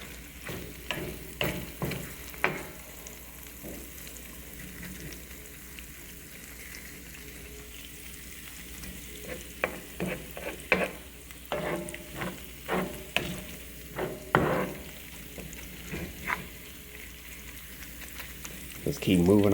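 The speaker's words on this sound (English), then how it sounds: "You want to keep cooking this until all of the meat is cooked." Ground beef frying in a pan for sausage gravy, a low steady sizzle broken by repeated scraping and clacking as the meat is pushed around, with faint talk underneath.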